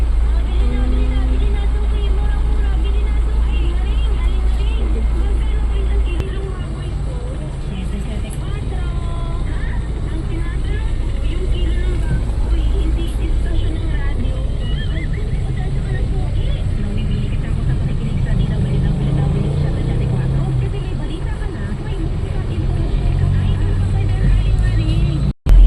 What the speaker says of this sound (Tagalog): Medyo traffic dito kasi ano tayo, no, dumadaan yung mga truck.